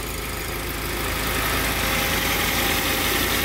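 A 1990 Honda Prelude Si running on its own power at idle, a steady close mechanical rumble with light vibration and no voices.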